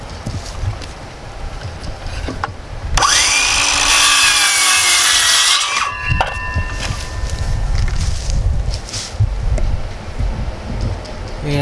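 A piece is sawn to length, about five feet, for a Rain Bird brass impact sprinkler installation on a Seattle farm. There is one loud, harsh cut of about three seconds outdoors, with quieter handling sounds before and after.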